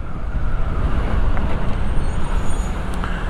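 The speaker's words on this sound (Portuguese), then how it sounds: "Engarrafamento de manhã cedo, indo pro trabalho." Morning rush-hour traffic jam on a commuter route, with cars, trucks and buses: a steady, loud roadway rumble with engines droning close by, a faint air-brake-like hiss and passing vehicles, no talk.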